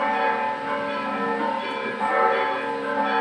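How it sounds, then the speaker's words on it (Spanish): Bells of a neighbouring church ringing loudly and steadily, their overlapping metallic tones sustained throughout with no talk over them. "por las campanas ahí de estos de la iglesia vecina"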